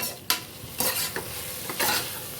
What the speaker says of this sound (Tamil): ஒரு 1 மினிட் அளவு வதக்கிடலாம்.